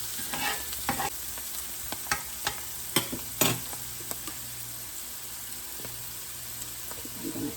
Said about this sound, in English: Let's get this butter all melted and start to get up any of the bits, the flavor that was from the meat browning.